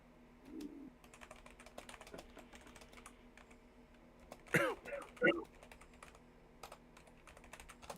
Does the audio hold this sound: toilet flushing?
no